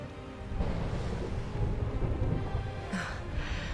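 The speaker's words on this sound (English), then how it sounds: "Would you look at it thundering away out there?" A low, rolling rumble of thunder from a storm in the video game Dragon Quest XI swells and lingers steadily, with a faint brighter crackle near the end.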